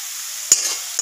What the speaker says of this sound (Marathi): कढईमध्ये तेल टाकलेलं आहे. तेल टाकून आपण कांदा परतून घेत आहे.